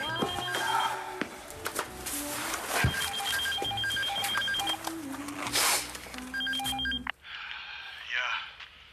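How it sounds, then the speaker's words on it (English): A phone ringtone plays as a busy electronic melody of repeated tonal beeps for about seven seconds, loud and close, followed by a short different tone at the end. "Cole, put this ringtone on my phone"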